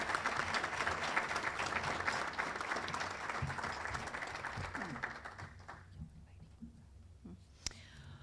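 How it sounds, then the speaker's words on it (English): An audience at a graduate hooding ceremony applauds steadily in a large hall, and the clapping thins out and fades toward the end, leaving quiet room noise. "please join me in one more round of applause for our graduates."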